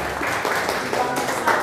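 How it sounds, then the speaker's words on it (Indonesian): Audience applause at a barber training seminar, a dense patter of clapping hands filling the room, steady and moderately loud throughout with faint voices underneath. "Tepuk tangan untuk bapaknya sekali lagi."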